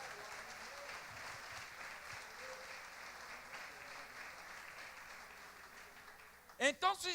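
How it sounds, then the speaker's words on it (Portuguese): Church congregation applauding during a service, a broad steady wash of clapping that fills the space, closing with a few louder, sharper bursts of sound. "Você pode aplaudir a ele por isso?"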